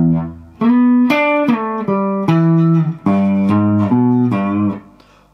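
Slow electric guitar phrase from a 12-bar blues, single notes and double stops with quick hammer-ons, each note ringing and sustained at a moderate, loud level, played alone.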